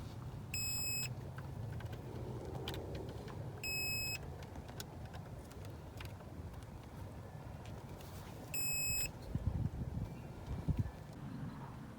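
Three short, high, bright beeps from a multimeter checking continuity on the fuses of a 1999 Nissan Altima, spaced a few seconds apart over a steady background rumble, with a few low knocks near the end.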